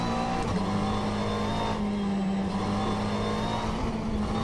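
A Mercedes AMG GT3 racer's naturally aspirated 6.2-litre V8, driven in the rFactor 2 sim at Road Atlanta, holds a steady, droning engine note throughout, loud and close with no talking.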